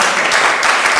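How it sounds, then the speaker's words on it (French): Brief burst of audience applause for newlyweds at a community gathering, dense and steady for about a second. "Et puis Camille et Axel, ils sont pas là, mais on peut les applaudir"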